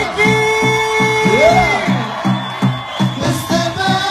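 A live show audience cheers and whoops for a performer over loud pulsing music with a steady beat, with shouts and yells rising above the rhythm.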